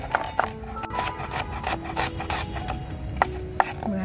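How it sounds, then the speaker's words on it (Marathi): A sharp knife chops red tomatoes finely on a board, a close, steady series of rasping cuts and light taps in an uneven rhythm, with no speech. "सुरीला बघा धार असेल ना तर मस्त असे टॅमॅटो आपल्याला अगदी बारीक कापता येतात."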